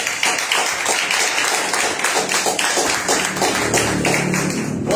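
Church congregation clapping together during a Saturday evening worship service, a steady dense patter of many hands filling the room for several seconds.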